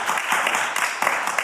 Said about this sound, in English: everyone's clapping for you